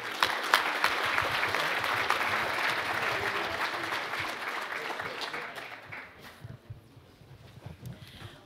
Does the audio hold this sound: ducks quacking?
no